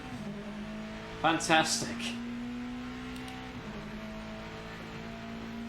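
A Mercedes AMG Junior race car engine in a racing video game drones at a steady pitch, held constant for several seconds before a slight shift, with a quick spoken word over it early on.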